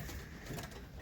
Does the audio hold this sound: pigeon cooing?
yes